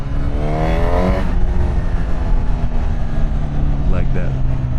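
A Honda CB1000 Hornet 1000cc naked motorcycle engine revs steadily as the rider shifts down through the gears, a continuous close rumble with a rising blip near the start and short throttle blips later, under a speaking voice.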